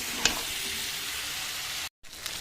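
Meat frying in a pan gives a loud, steady broadband sizzle, with a faint clink near the start, then a sudden cutoff and a quieter sizzle resuming as water is poured into the pan.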